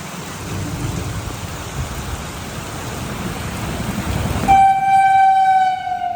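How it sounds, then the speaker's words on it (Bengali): Rain hisses steadily as the Kolkata–Sairang Express rumbles past, a low continuous rolling noise building toward the end, capped by a loud sustained train horn. "বৃষ্টির মধ্যে কলকাতা সাইরাং এক্সপ্রেস যাচ্ছে সাইরাংয়ের দিকে।"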